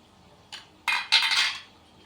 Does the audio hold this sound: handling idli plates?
yes